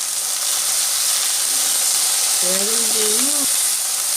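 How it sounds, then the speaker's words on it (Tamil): Okra and onion sautéing in a pan for Tamil-style vendakkai poriyal give a steady, even sizzling hiss throughout, with a voice faintly talking beneath it near the end. "இப்போ வெண்டைக்காய் கூட சேர்ந்து வெங்காயம் வதங்கிடும்"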